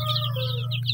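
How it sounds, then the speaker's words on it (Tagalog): Native chicks of the Zampen breed, about 15 days old, cheep and peep continuously inside a brooder, with a steady low hum running underneath, close and fairly loud. "yung isa pang batch na mga sisiw natin"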